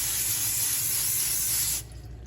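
Cooking spray hissing steadily onto baking pans for chocolate zucchini bread over a kitchen sink, one continuous close burst lasting nearly two seconds before cutting off, with no talk.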